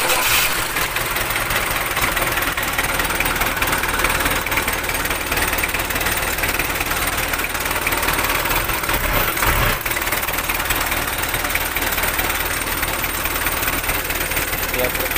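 A car engine fitted with a push-button starter runs at a steady idle, a dense continuous rumble with mechanical vibration and faint knocking, holding constant throughout without a clearly audible start.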